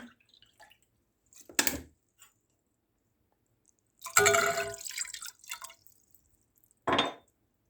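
Milk is poured into a pot for semolina halva syrup in two short splashing pours, then a longer glugging stream, close and clear in a quiet kitchen.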